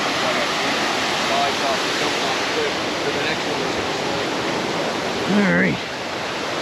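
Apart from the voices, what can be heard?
water running down a waterfall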